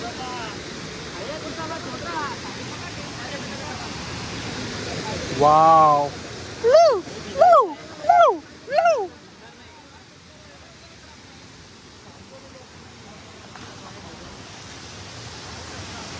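Rushing river water near Waghbil waterfall in Badlapur makes a steady broadband roar throughout, with a person's voice calling out briefly over it partway through.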